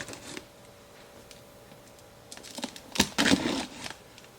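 Cardboard top of a boxed KRIDDO toddler balance bike being cut open, giving quiet scattered scratches and ticks that build into a louder burst of tearing and slicing near the end.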